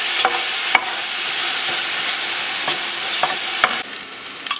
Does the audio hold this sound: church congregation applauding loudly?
no